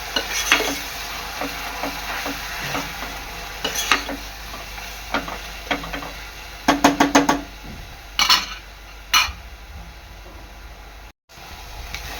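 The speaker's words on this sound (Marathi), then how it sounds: "वाटण आहे ना चांगलं तेलामध्ये शिजवून घ्यायचं आहे" Ground masala paste sizzles while cooking in oil in a pan, with a steady fry under repeated close scrapes and taps of a stirring spoon, including a quick run of knocks near the middle.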